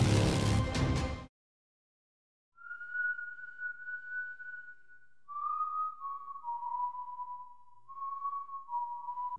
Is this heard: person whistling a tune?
yes